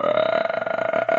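A voice imitates Max Verstappen's burp with a sustained, rough, croaking belch-like tone lasting just over a second, loud and close.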